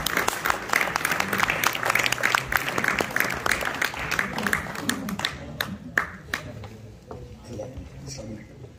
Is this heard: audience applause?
yes